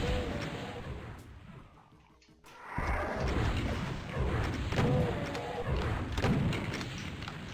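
Rocket explosions in the video game DOOM make heavy repeated booms and thuds, with a brief quiet lull before the blasts resume and continue densely.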